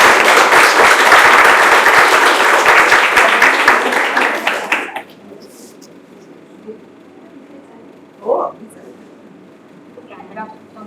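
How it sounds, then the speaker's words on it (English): Loud audience applause fills the first half, then fades abruptly into a quiet room with a faint brief voice. "On behalf of all of us, a big round of applause."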